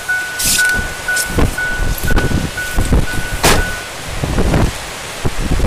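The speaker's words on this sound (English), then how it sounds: "Windy." Strong wind buffets the microphone on a beach during a nor'easter, coming in loud irregular gusts and rumbles across the whole stretch.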